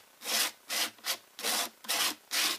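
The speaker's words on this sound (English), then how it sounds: "you'll see that I just keep scraping it" A palette knife scrapes modeling paste smooth in six rhythmic, rasping strokes, each a short burst with brief pauses between, close and clear with no talking.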